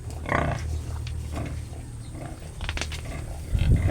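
Piglets on a backyard pig farm, recently weaned from their sow, grunting in short bursts near and fairly loud, with rustling and movement around them and a heavier thump at the end.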